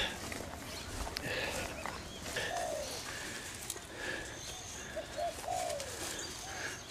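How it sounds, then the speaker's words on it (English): Small sparrows chirp and call intermittently at a moderate distance, with soft cooing notes over a faint outdoor background. "There's little sparrows in there."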